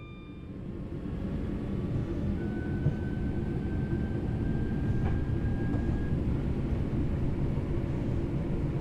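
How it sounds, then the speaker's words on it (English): Class 323 electric train accelerating in Train Sim World 6 on the Crewe to Manchester Piccadilly route, with a steady broadband rumble and a rising whine from the traction motors, loud and continuous. "Nice little train this is, because it picks up speed rapidly."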